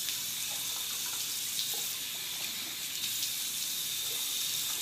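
Tap water runs steadily into a sink while a skincare face mask is rinsed off, a constant close hiss and splash with faint splashy variations and no speech.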